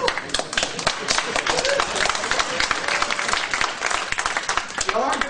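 Dense applause from an audience at a technical talk, steady and continuous with a crowd murmur beneath the clapping, filling the whole stretch without a break.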